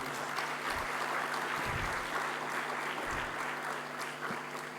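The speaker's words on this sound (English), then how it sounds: "Please give a big clap to Prof Arora." An audience at a guest lecture applauds Prof Arora, a steady sustained patter of many hands clapping, moderately loud and even throughout with a constant hum underneath.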